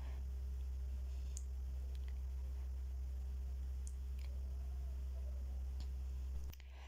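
Potatoes and besan tangri fry in ghee in a pan, giving a steady, soft, even sizzle with a few sharp clicks and scrapes of a spoon, over a constant low hum and with no talking.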